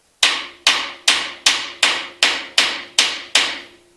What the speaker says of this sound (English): Grab your best body hammer.